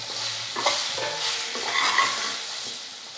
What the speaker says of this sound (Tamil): கிழங்கு சேர்த்ததுக்கப்புறம் ஒரு 2 நிமிஷம் வந்து எண்ணெயிலே நல்லா வதக்கிக்கலாம்